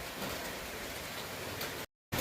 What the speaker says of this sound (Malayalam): ഒരു ചൊറിഞ്ഞ മഴയാണ് കേട്ടോ.